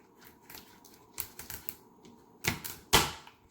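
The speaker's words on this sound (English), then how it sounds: "I simply cut off the tip first, and then I cut off the neck." Knife cutting the tip and neck off a butternut squash, several sharp, close chopping thuds against a board, growing louder toward the final two cuts.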